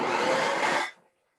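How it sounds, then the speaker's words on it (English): A handheld electric mixer whirs steadily at close range while beating egg whites, a dense, even motor hum that cuts off abruptly after under a second, leaving near silence. "sometimes when I do egg whites, I prefer my handheld mixer because it just does it so quickly"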